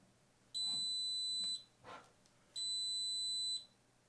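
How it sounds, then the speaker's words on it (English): A Creality Hi Combo 3D printer gives two clean, high electronic beeps about two seconds apart, each roughly a second long, as it reads a filament spool's RFID chip. A faint brief rustle falls between them in a quiet room. "Those two beeps indicate the High Combo has successfully read the RFID chip"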